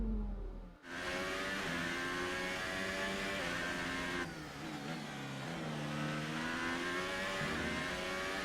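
A Formula 1 car engine in the F1 2018 video game, racing in Spain, revs hard with a continuous high-pitched whine that rises and shifts through gear changes, loud and sustained throughout.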